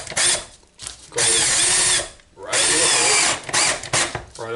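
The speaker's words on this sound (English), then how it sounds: "take your drill or whatever you want to use" A power drill whirs in three bursts, each about a second long, with short pauses between them, close by and loud.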